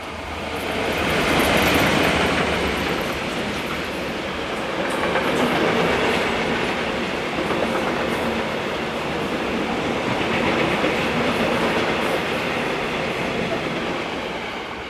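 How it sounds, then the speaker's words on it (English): Swiss Re 6/6 electric locomotive hauling a train westbound past Rupperswil on the line toward Aarau, a loud rolling roar with clattering wheels that swells and fades as it passes close by. "Heading west we see RE66 loco number"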